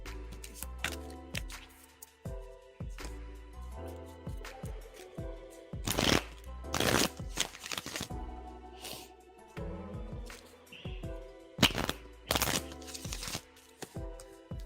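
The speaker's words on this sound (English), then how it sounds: "we're getting some resistance in the shuffle" Tarot cards being shuffled by hand in a quiet room, a steady run of papery riffles and soft slaps with a few louder bursts, close and alone with no talking.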